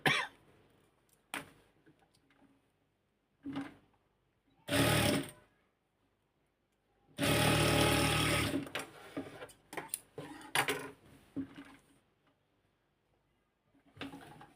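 Electric sewing machine stitching a pajama, running in several short bursts and one longer steady run of rapid needle clatter, close and loud, with quiet pauses between.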